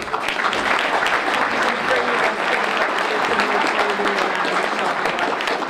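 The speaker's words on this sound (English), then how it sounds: "Please give these fine people a hand clap." An audience at a podium ceremony with state officials bursts into sustained applause, dense hand clapping from a sizable crowd that stays loud and even for several seconds.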